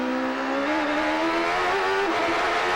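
On-board roar of a Champ Car race car during qualifying at the 2003 St Petersburg Grand Prix, a loud, continuous high-revving engine note climbing steadily in pitch as it accelerates.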